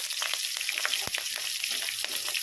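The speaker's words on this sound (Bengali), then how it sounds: "কাঁচা লঙ্কাটাকে কিন্তু আমি চিড়ে দিয়েছি দিয়ে এটাকে একটু হালকা করে একটু ভেজে নেব" Slit green chilies and garlic fry in a pan with a dense, continuous sizzle and crackle, close and steady, with light stirring taps underneath.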